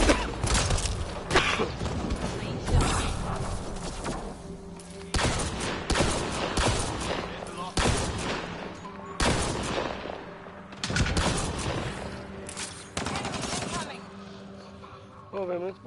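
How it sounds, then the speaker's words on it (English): Rifle fire in Mass Effect Andromeda comes as loud, close bursts of rapid shots separated by short pauses, mixed with game effects and a voice talking in between. "Bacana esse rifle"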